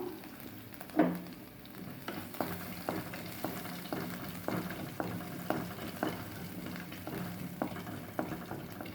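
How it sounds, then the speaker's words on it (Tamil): Mustard seeds, urad dal and finely chopped shallots fry in oil for a tempering, giving a low continuous sizzle. A regular series of soft spoon taps and scrapes runs through it, with a louder knock near the start. "இப்போது இதில் கடுகு, உளுத்தம் பருப்பு சேர்க்கலாம். கூடவே நைஸாக கட் பண்ணி வச்சுருக்க சின்ன வெங்காயம் ஒன்று சேர்க்குறோம்."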